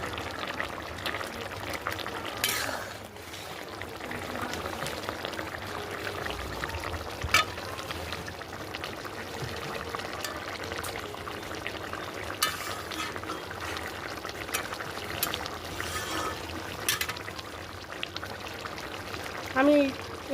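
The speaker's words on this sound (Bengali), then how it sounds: "ঝোলের মধ্যে মাছগুলি দিয়ে দিয়েছি, আর কিছুক্ষণ ফুটিয়ে নেব" Gurjali fish bubbles gently in a spicy Bengali curry gravy, a steady soft simmer with faint pops and crackles over a low kitchen hum.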